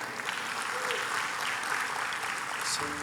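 Church congregation applause, a steady mass of clapping hands with voices mixed in, sustained at moderate level throughout and a faint tone entering near the end.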